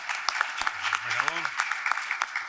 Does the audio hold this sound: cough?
no